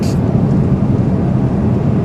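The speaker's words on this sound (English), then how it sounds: "there's a lot of traffic" Heavy road traffic rumbling past in a low, continuous roar, steady and fairly loud throughout with no pauses or distinct vehicles standing out.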